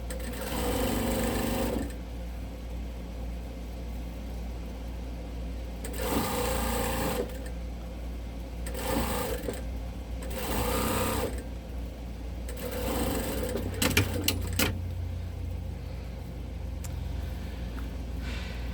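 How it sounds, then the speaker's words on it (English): A sewing machine top stitches the lining of a patchwork Christmas stocking in several close bursts of rapid mechanical whirring, separated by short pauses. "Now we're going to take it under the machine one last time, and we're going to do a top stitch to keep our lining in place."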